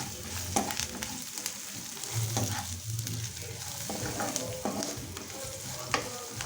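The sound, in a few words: stirring curry leaves and turmeric frying in a pan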